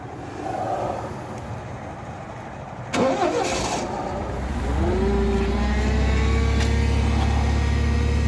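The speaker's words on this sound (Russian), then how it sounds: "Двигатель запустился очень легко" A Toyota 6FG15 forklift engine is cranked and catches after a few seconds, settling into a steady, loud idle close by.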